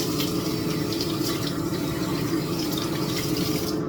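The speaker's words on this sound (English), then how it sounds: "once you've peeled your potatoes, rinse them off" Steady tap water running over peeled potatoes in a kitchen sink, a continuous close splashing flow with no pauses.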